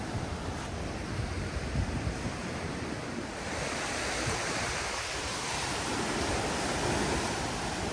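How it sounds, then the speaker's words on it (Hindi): Strong ocean waves at Fort Kochi beach, a continuous roaring surf wash with wind buffeting the microphone, loud and steady with no talk. "बहुत स्ट्रॉन्ग स्ट्रॉन्ग लहरें हैं भाई."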